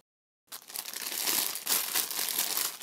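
Crinkly plastic packaging being torn open and unwrapped from a pair of handles for crocheted bags: close, continuous crackling and rustling that begins abruptly after a short silence and keeps going without pause.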